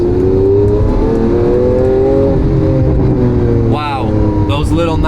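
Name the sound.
Lamborghini Aventador S engine revving with exhaust pops and bangs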